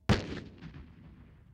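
An explosive charge goes off during combat engineer training: a single sharp, loud blast that rolls away in a long fading rumble, alone with no voices.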